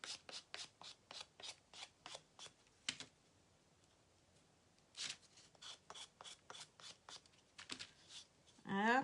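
Close, quiet sanding of small napkin art house kit pieces, heard as bursts of short, rhythmic rubbing strokes with pauses in between and a crinkle of plastic at the end.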